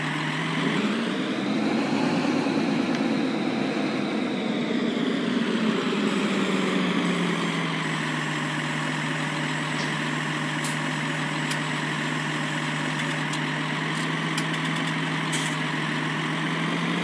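A tractor engine in Farming Simulator 19 runs steadily and loudly throughout, revving higher early on before settling into a constant idling drone, with faint clicks and tones on top.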